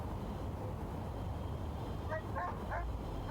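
A stray dog in the video game Mine Memory gives three short yips near the end, heard over a constant hum of city street ambience with distant cars.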